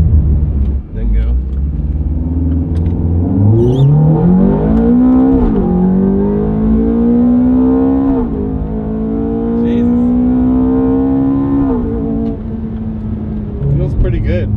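A Ferrari F430 with a replaced F1 gearbox pump accelerates hard, its engine revving up in loud rising sweeps with distinct upshifts around a few seconds apart, close and dominant inside the car.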